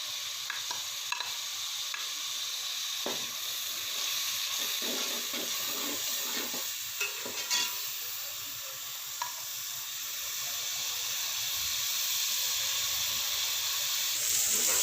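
Onion, tomatoes and green chillies frying in a pan for chana pulao give a steady close sizzle and hiss, with occasional scraping stirs and light pops, and no talk.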